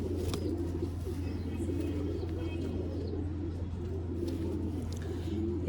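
Pigeons coo softly at the Lucknow pigeon market, low repeated calls over a constant droning hum and busy market background, with no clear speech.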